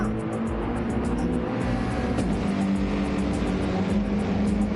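GT race cars roar around the Lago Maggiore circuit in a racing video game, a steady loud engine drone with no break and slight shifts in pitch as the cars run together.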